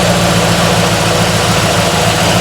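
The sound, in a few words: GM car engine idling while warming up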